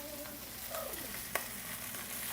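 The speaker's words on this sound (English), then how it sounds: "They're sizzling." Spicy food sizzles and fries in a hot pan, a steady close hiss with a few stirring scrapes and one sharp clink.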